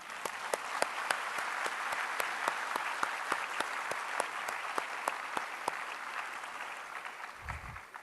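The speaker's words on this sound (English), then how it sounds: "We should all applaud Peter Dabrowski" A concert audience at a final university performance applauds Peter Dabrowski with steady, fairly distant clapping, a few sharp individual claps standing out at first, gradually softening toward the end.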